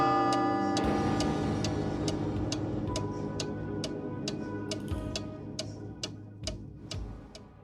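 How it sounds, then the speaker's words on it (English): A large clock in the lobby of an old lodge ticks steadily, sharp regular clicks close by, over a rich resonant drone that slowly fades away. "the large clock's steady tick"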